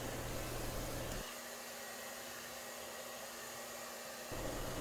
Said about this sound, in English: in this one I had just washed my hair, so I am actually finishing up drying it.